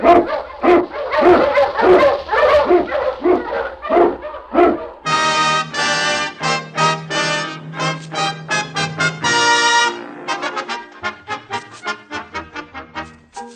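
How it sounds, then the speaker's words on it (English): Eskimo lead sled dog with a team of sled dogs barking loudly and close, first in a rapid run of sharp barks, then excited yips and whimpers, with a bright musical backdrop joining midway. "King, the swiftest, strongest of Eskimo lead dogs, blazes the trail through storm and snow"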